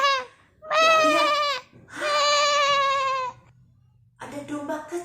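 A little sheep caught in a thicket gives two long, wavering bleats close by, followed by a shorter burst of sound as talking begins.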